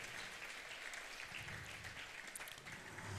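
An audience at an educational equity leadership summit claps for a performed poem and song, a dense, steady wash of applause from many hands sustained throughout without a break.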